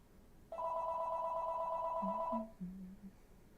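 A landline telephone rings with one steady electronic tone lasting about two seconds, clear and moderately loud, and a softer low voice-like murmur follows.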